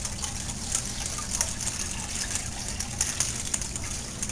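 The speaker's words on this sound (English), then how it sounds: "So when I pour it in, it's not a shock to them." Dechlorinated water pours into a fish tank as a steady, close gushing splash with fizzy bright spatter, continuing evenly alone without talk.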